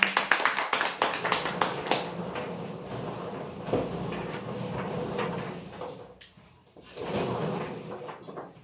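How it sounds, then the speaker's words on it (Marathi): A burst of clapping from a crowd at a prize draw, loud at first and tapering, with scattered claps and room noise continuing afterward. "जोरदार टाळ्या"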